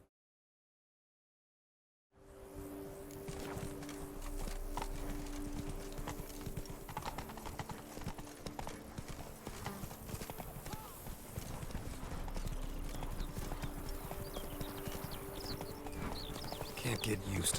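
The horse Roach gallops in The Witcher 3, with rapid rhythmic hoofbeats close by and continuous after a short silent start, alongside game ambience and a voice speaking.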